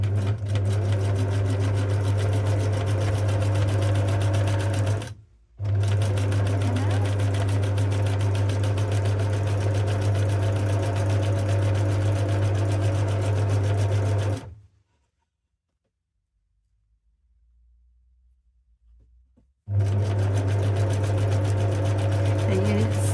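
A sewing machine stitching straight down the middle of rolled fabric snippets, loud and close with a steady mechanical hum, stopping briefly twice before running again.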